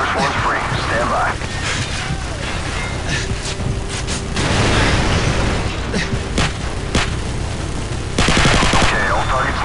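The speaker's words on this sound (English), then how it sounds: "taking heavy fire from a fortified position on the fifth floor" Heavy gunfire in the shooter game Call of Duty Modern Warfare: dense bursts of automatic fire and booming impacts fill the whole stretch, with radio-style voices talking over the battle noise.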